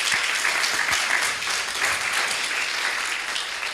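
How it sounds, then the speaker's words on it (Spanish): A church congregation claps for the Lord during a sermon on salvation, a short burst of full, even applause filling the room. "Denle un aplauso al Señor."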